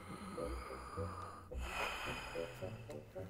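Deep breathing during a medical examination for a suspected tuberculosis patient: a couple of slow, audible breaths with a sharp snort-like intake midway, close and quiet, no talking over it.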